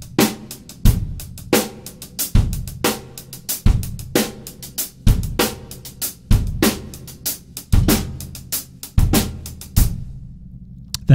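A drum kit works through sixteenth-note bass drum placements against an unchanging hi-hat pattern, repeating punchy kick and cymbal hits in a steady, even sequence with no talking.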